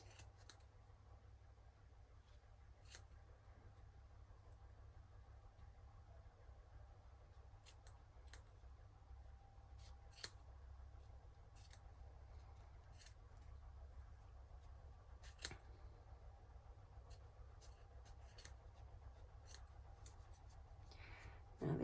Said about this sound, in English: you need to work your way around the edges and just snip